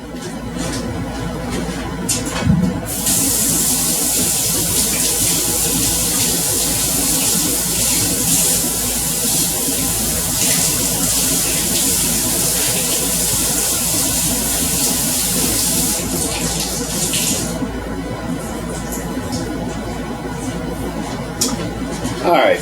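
Tap water runs steadily into a sink for hand washing in a home kitchen during brownie making, a continuous broad hiss lasting most of the stretch with faint handling clatter beneath, and no talking.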